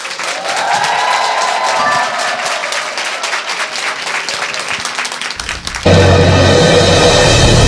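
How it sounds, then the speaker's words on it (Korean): A lecture audience breaks into warm applause to welcome a speaker, many hands clapping loudly and evenly; near the end the clapping gives way abruptly to a louder, broadband burst. "여러분 뜨거운 박수로 맞아주세요"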